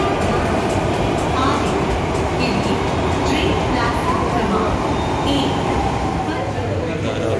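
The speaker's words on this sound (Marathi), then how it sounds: "ही धानुकरवाडी करून आरेकडे जाणारी मेट्रो आली आहे" A Mumbai Metro Line 7 train heading toward Aarey pulls into a station with a loud, continuous rumble and rushing noise, with faint voices blended into the din.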